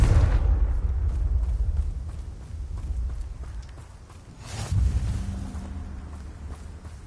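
Confringo blasting spell explosions in Hogwarts Legacy, a heavy boom at the start and another around the middle, each fading into low rumbling.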